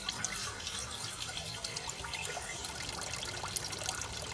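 Coolant trickling and draining out of a Jeep heater core after flushing, a steady continuous watery flow with faint drips, close and alone without talk.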